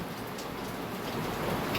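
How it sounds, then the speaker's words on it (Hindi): Heavy rain pours steadily outside, a dense unbroken hiss that stays loud and even throughout, with no voices over it. "तो अभी बारिश बहुत तेज़ी से हो रहा है, हो सकता है उसका आवाज़ आपको"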